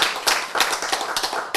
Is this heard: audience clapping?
yes